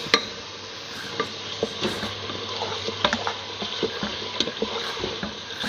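Yogurt is stirred into a turnip and mutton curry, with a close, steady frying sizzle and irregular clicks and scrapes from the spoon working through the pot.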